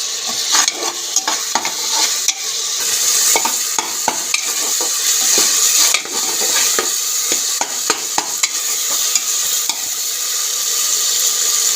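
Onion, ginger-garlic paste and chopped tomato sautéed in a pan on a gas stove for a chickpea curry. A loud, continuous sizzle runs throughout, broken by frequent spatula scrapes and clacks against the pan, with no talking.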